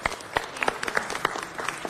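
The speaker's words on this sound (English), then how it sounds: "let's welcome them with a big round of applause" A crowd at a city council meeting applauds steadily, many hands clapping at once in a dense, continuous patter with a few sharper claps standing out.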